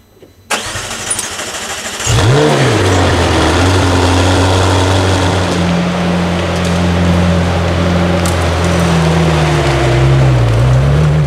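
A McLaren Senna's engine cranks and fires, then settles into a loud, steady throbbing idle with revs rising and dipping slightly, close by and without talk.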